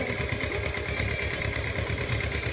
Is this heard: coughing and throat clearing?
no